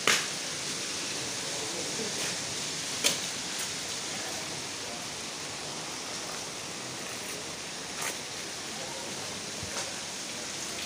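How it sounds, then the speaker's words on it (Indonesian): Steady rain falling outdoors in a Rawamangun park, a constant soft hiss with a few sharper drop or tap hits scattered through it and no talk. "Hujan."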